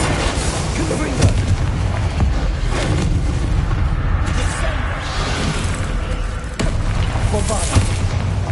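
Spell blasts in a Hogwarts Legacy duel, repeated heavy booms and crackling explosive bursts in quick succession, loud and dense, with a voice shouting incantations between the impacts.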